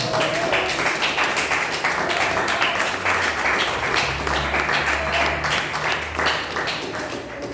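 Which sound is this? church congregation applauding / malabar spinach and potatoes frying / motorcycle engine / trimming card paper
church congregation applauding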